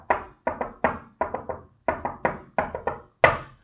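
Knuckles knock on a hard surface in a long-short-short pattern, tapping out the six beats of a dactylic hexameter line as clustered dull thumps repeated in even groups, close and distinct with no voices.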